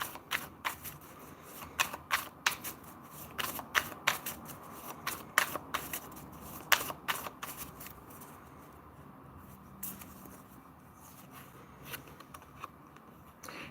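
Animal spirit oracle cards shuffled by hand in a run of quick, crisp riffles and flicks up close, with the flurry of cards thinning out toward the end.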